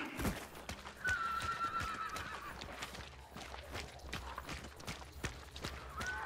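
A horse whinnies in the video game Hunt: Showdown, a drawn-out neigh rising clearly over a steady ambient bed, with clip-clopping hooves running through much of the scene and a fainter second whinny near the end.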